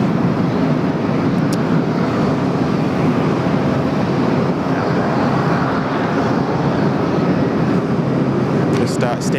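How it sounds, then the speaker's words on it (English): An Emirates Airbus A380 departs from runway 16 right at Sydney Airport on its way to Christchurch, a loud, steady, broad jet roar that holds at full strength throughout with no pause. "Comes the Emirates A380 outbound to Christchurch."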